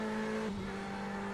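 Onboard view of a GTE race car in a sim racing game at Portimão, its engine droning at high, steady revs and briefly bouncing off the limiter through a corner, loud and close throughout.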